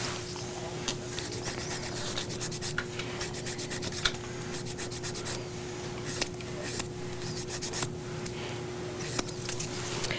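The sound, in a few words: filing down toenails during a pedicure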